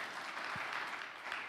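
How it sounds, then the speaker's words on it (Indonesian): Audience applause during a church sermon, a brief, soft, steady patter of clapping from a congregation, fairly distant and low in level. "Berikan tepuk tangan yang meriah buat."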